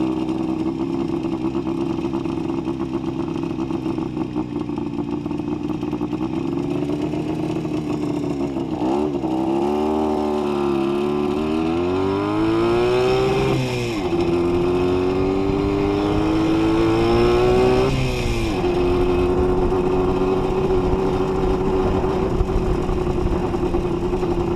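A 1966 Panther Model 35 motorcycle with a Villiers engine being ridden on a parkway north of Peterborough: a loud, steady close-up engine drone whose pitch climbs and dips with throttle and gear changes, with no talk.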